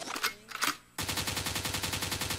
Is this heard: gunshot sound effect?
yes